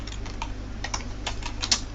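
A computer keyboard clatters as a name is typed into an Excel spreadsheet, a quick, uneven run of light key taps, close and alone without talk.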